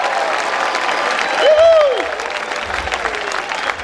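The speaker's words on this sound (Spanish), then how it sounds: "cómo va a extrañar esos aplausos don Temil" An audience at a live show applauds in a steady wash of clapping, with a brief shout or whistle rising over it midway.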